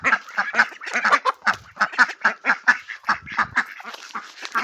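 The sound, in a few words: ducks quacking while being fed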